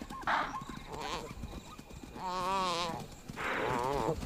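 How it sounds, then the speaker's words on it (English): A topi antelope bleats in desperate distress at night while a lioness hunts it: a few wavering, strained cries, the longest two drawn out near the end over rustling background noise. "The chaser can hear the desperate bleat of a topi."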